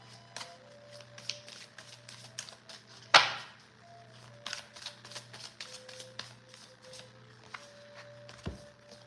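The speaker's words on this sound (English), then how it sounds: "I'll pull one more from my spellcasting oracle cards" Spellcasting oracle cards are shuffled and pulled, a series of soft, quick riffling taps and flicks with one sharper snap partway through, quiet and close over a faint steady hum.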